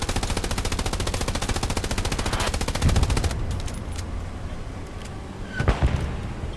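Machine-gun fire in the WWII shooter Hell Let Loose, a loud, rapid unbroken burst for about three seconds, then distant scattered shots and a single sharp report.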